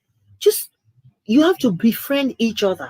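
A single short sneeze bursts out near the start, followed after a pause by a person speaking close up.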